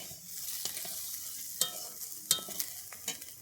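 Green chillies fry with bitter gourd in a pan, giving a steady soft sizzle with a few sharp spatters and stirring scrapes close by, quiet overall and without talk.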